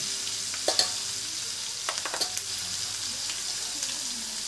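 Ginger-garlic-coriander paste, bay leaf, curry leaves and spices sautéing in oil in a pan, a steady close sizzle with a handful of quick spatula clinks and scrapes.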